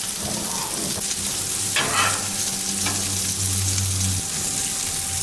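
Wagyu burgers sizzle and fry on a Coleman Revolution BBQ grill, a steady close crackle with fat draining into the grill channels and a couple of brief clattering bursts partway through.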